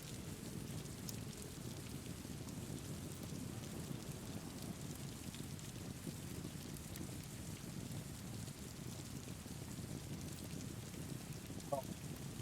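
Steady rain falls in a video game, a constant even hiss of drops with a faint wind-like rush, unbroken for the whole stretch.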